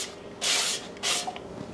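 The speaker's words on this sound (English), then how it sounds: "we're gonna spray the bottom of our air fryer with our oil again." Two short bursts of cooking oil spray hiss close by into an air fryer basket, each under half a second, separated by a brief pause.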